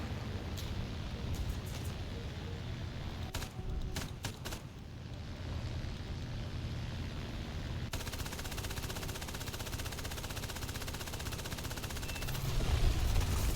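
Rapid machine-gun bursts and gunfire in the combat video game War Thunder, dense rattling volleys over a steady engine-like roar, continuous and loud with a few sharper separate shots.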